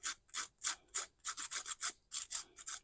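Metal detail plate for a Flying Scotsman model being filed to remove a burr, a series of about a dozen quick rasping strokes in steady rhythm, close and fairly quiet.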